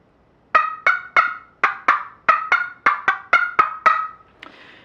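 A turkey yelp worked on a scratch box call: a series of about a dozen sharp, raspy two-note yelps in a steady cadence, close and clear, ending with a softer scrape.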